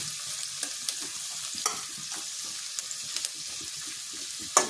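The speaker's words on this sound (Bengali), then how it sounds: "পেঁয়াজটা ভাজা" Onions fry in a pan, a quiet, steady sizzle broken by soft scrapes and light taps of a spoon stirring at irregular intervals.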